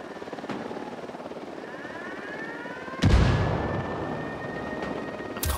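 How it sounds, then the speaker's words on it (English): A helicopter approaches in the video game Ghost Recon Wildlands, its steady rotor thump and whining turbine building gradually, then growing suddenly louder and closer about halfway through. "Chopper inbound."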